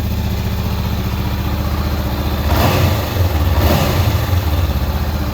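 A 2019 Honda CBR500R motorcycle idling close by, then revved twice in quick succession, each throttle blip swelling to a louder roar before settling back to a steady idle, with no talking.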